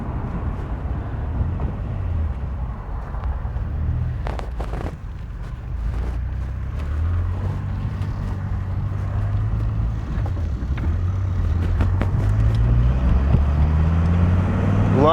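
A 1992 Dodge Viper RT/10 with side exhaust idles with a low, rumbling engine burble, steady and close, rising toward the end as the revs build, with a few knocks and clicks over it.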